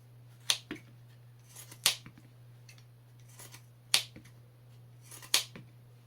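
Sharp snips of trauma shears cutting through a belt, four distinct crisp clicks spaced a second or more apart, close by over a low steady hum, no talking.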